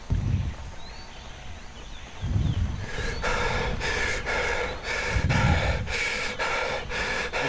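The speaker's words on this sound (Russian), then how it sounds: "У кого-то так сильно микрофон включил, такое дыхание." Heavy breathing picked up by a microphone during Dead Island play: loud, close gasping and snorting, starting with a few breaths before a rhythmic run of harsh pants that roughly repeat every half second or so.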